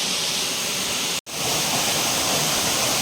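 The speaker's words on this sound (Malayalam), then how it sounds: "ഇവിടെ അപ്പുറത്തൂടെ വലിയൊരു വെള്ളച്ചാട്ടം" A constant, loud roar of a large waterfall, close and unbroken apart from a split-second gap.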